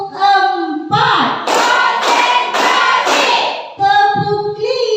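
A school class claps together in a counted rhythm, a dense burst of many hands lasting a couple of seconds, with voices heard just before and after it.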